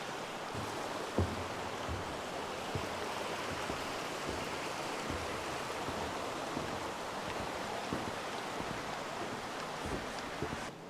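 The Robinson River rushes along a wooded Shenandoah hiking trail near a chain of waterfalls, a steady broadband wash of flowing water with no voices.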